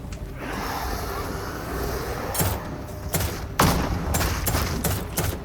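Handgun shots in The Sinking City 2, several sharp cracks spaced irregularly over a steady noisy game background.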